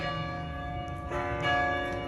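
Church bells ring in Jackson Square, New Orleans, producing sustained, overlapping tolls. A new strike swells the sound slightly partway through, with no talk.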